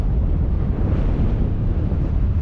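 Strong wind roars across the microphone at a high mountain base jumping exit, a loud, continuous low buffeting rumble with no break.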